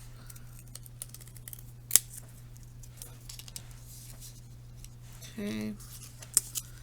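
Scissors snip through paper while cutting out shapes, a few short faint cuts over a steady low hum, with one brief spoken word.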